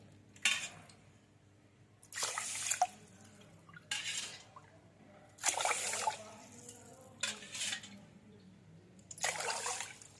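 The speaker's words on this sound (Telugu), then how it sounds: "ఇప్పుడు 4 గ్లాసుల వాటర్ పోసుకుందామండి" Water splashes into a pressure cooker of rice in several short pours, each lasting about a second, separated by brief pauses. Close and fairly clear, with no talking.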